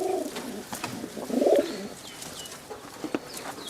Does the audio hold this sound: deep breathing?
no